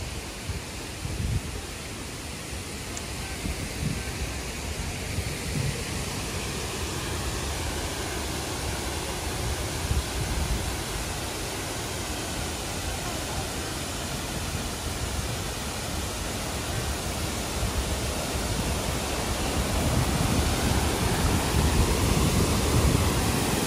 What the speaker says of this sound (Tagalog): Shifen Waterfall, guys.